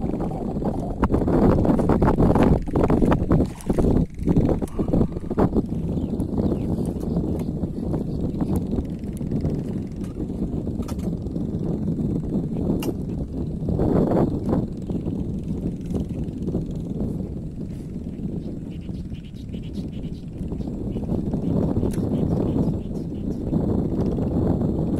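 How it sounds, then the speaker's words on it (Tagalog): Wind blows over a fishing boat on Laguna Lake, a strong gusty rumble that buffets the microphone with shifting loudness throughout. "Hangin na."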